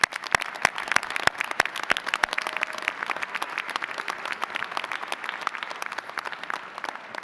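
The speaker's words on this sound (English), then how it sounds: "Let's give them a round of applause." Sustained audience applause at a 2024 fall commencement ceremony for university graduates, a dense steady wash of many hands clapping with sharp individual claps standing out, continuing evenly throughout.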